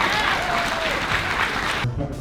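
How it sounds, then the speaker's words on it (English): Applause from an audience at a creative showcase event, a steady wash of clapping that holds for about two seconds at fair loudness, with some voices mixed in before it thins out near the end. "Just get a round of applause for Jordan."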